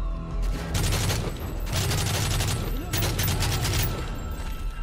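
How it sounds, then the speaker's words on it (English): Sustained automatic fire in Modern Warfare 3 Spec Ops, shots pouring through walls in three long, loud bursts with brief gaps, a voice faintly under the shooting. "Gotta shoot through the walls."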